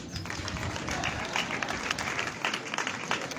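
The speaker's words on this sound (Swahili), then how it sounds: "Boys, hebu pigia makofi wasichana." Boys in a crowd at a secondary school thanksgiving ceremony applauding, steady mid-distance clapping spread across the whole stretch with faint crowd murmur beneath.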